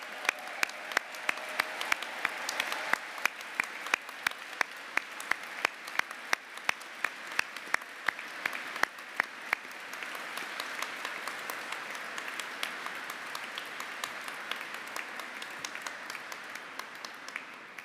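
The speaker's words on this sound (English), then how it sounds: "please, a round of applause for all of the graduates today" Graduates receive a round of applause from the audience at a University of Kent graduation ceremony in Canterbury Cathedral, steady dense clapping of a large crowd heard from a distance in a reverberant hall, sustained throughout without talk.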